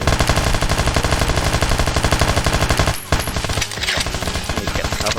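Rifle fire in the first-person shooter Kshatriya: Prologue sounds as a rapid, loud automatic burst of evenly spaced shots, broken by a short pause about three seconds in before the firing resumes, with no one speaking.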